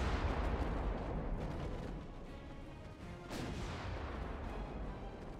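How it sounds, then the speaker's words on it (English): Naval guns firing 10-inch high-explosive shells in the warship game Ultimate Admiral Dreadnoughts, heavy booming blasts rolling into a continuous low rumble, with a sharper report midway. "Last HE shell from the 10-inchers going out now."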